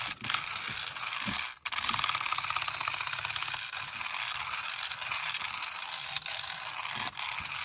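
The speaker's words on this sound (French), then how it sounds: "La transmission qui tape sur les trucs." Rapid, continuous mechanical clattering and ratcheting of an RC rally car's transmission gears knocking, steady and close for several seconds.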